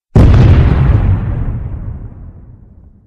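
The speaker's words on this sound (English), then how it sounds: "The explosion was wondrous." A lit stick of dynamite goes off in one sudden, loud, deep blast that rumbles and fades slowly over about three seconds.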